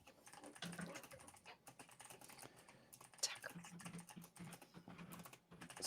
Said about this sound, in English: Sorry, I was typing back here.